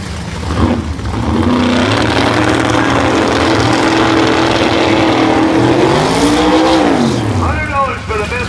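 A drag race car in an Outlaw 10.5 and EZ Street eliminations event does a burnout, its engine rising to a loud, sustained roar with shifting pitch before dropping off, while an announcer talks over it.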